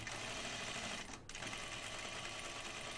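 A sewing machine stitches a shirt collar in a steady, fast close-up whir, with a brief pause partway through before the stitching carries on.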